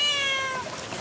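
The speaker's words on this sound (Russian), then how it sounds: "А в этот дом вернулись, чтобы забрать кота." A cat meows loudly and close by inside a flooded house, one drawn-out cry that fades over about a second against a faint watery background.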